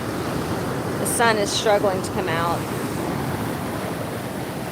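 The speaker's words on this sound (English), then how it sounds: "The waves are still just as choppy" Choppy ocean surf along a Florida shore rumbles in a constant broad wash with wind noise, while someone talks briefly over it.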